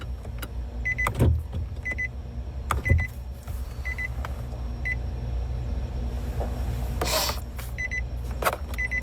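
A car that won't turn on: repeated short clicks and brief electrical whirs as the ignition is tried several times, each attempt dying out, with a low steady hum inside the vehicle and no engine catching.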